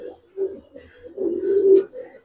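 Silver pankhi giribaz pigeons in a pigeon house give soft, low cooing calls in a few short, close phrases, with quiet background noise.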